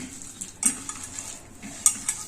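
A spoon scrapes and clinks against a dish while raw mango chutney with sesame is stirred and mixed by hand, with irregular metallic taps over a soft wet background.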